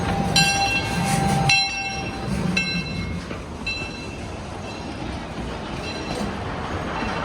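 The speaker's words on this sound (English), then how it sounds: "Here comes the train." A train at Cedar Point amusement park rolls past with a bright horn or whistle blast at the start and a steady rumbling, clattering wash of wheels that carries on to the end, close and loud.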